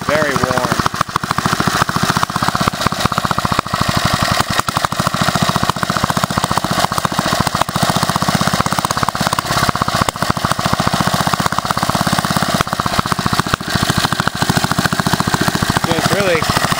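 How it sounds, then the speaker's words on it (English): Old Lauson small engine with a worn carburetor running continuously, a loud close rapid chugging with uneven spitting and sputtering; a person talks over it throughout. "the engine itself sounds nice and tight, which I'm pleased with"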